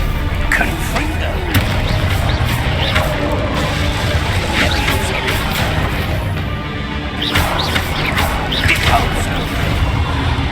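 Confringo spell blasts go off in Hogwarts Legacy amid combat, with repeated booms and crashes over continuous battle noise and a voice calling out spells.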